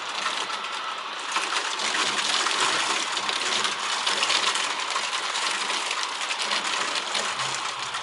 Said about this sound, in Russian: Смотри, град идет.